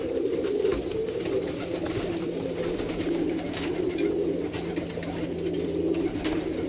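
Tippler pigeons coo continuously in low, soft murmuring rolls close by, with faint chirps above and a steady background hum.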